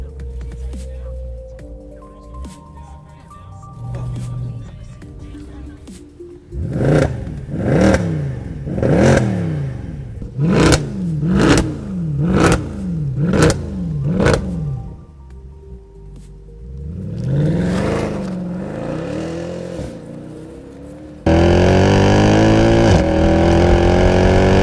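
A naturally aspirated 517 horsepower V8 Mercedes C63 AMG launches hard, its engine note rising and falling through several rapid gear changes, loud and close, ending in a sustained high roar.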